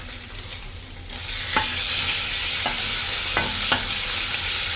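Salted egg yolk stirred in a frying pan, spatula scrapes landing every second or so over a steady close sizzle.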